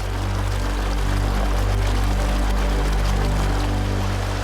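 Water pours steadily through an irrigation canal, producing a loud, constant rushing flow with a heavy low rumble and no break from start to finish.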